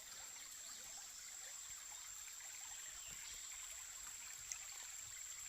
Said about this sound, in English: Right next to this babbling brook.